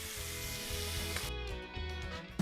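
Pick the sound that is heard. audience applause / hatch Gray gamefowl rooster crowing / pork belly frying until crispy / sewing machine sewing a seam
pork belly frying until crispy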